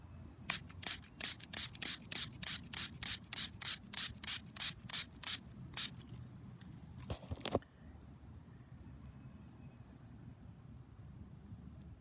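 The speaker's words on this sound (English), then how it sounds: "Get out the silver cleaner." Quick rhythmic rubbing strokes of silver cleaner being worked over a silver Roosevelt dime dug while metal detecting, a dozen or so close, even scrubs, then a short burst of sharper scraping before quiet outdoor background.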